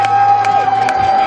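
A crowd at a bus-pulling event in Schortens cheers and shouts for a team, with brief whoops rising over a steady, close background din.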